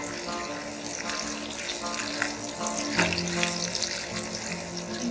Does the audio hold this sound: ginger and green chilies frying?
yes